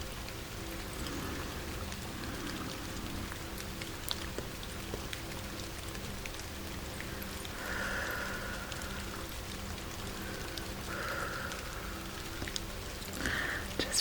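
Steady rain falls outdoors in sunshine, a constant close patter of drops on surfaces with occasional louder splashes, continuing evenly for the whole stretch without talk.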